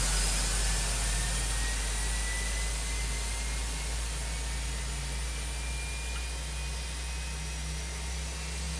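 Airbus A319 with CFM jet engines running in X-Plane 11, a loud, steady engine roar with a deep low rumble and a faint whine slowly gliding in pitch throughout.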